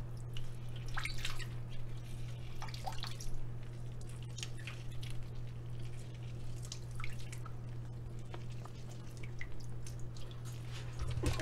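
Red snapper rinsed with water, soft splashing, dripping and squishy handling sounds over a steady low hum, fairly quiet and without talk.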